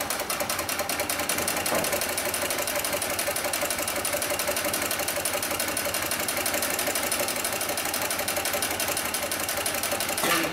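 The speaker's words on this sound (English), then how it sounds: "we'll go ahead and sew through 4 layers of this heavy-duty webbing" Heavy-duty industrial sewing machine stitching through four layers of heavy webbing, a loud, steady rapid mechanical chatter running unbroken at close range.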